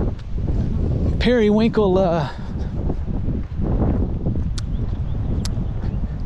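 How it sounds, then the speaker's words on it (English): Wind gusts roar steadily across an outdoor microphone on a sunny dog walk along a street, a continuous broadband rush under a voice. "here comes the wind"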